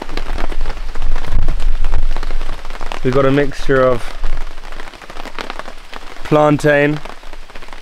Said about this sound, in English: waiting for the rain to stop so we can get going again